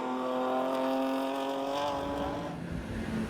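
A BMW touring race car entering the pit lane in a Belcar endurance race, its engine holding a loud, steady, buzzing drone that eases slightly toward the end.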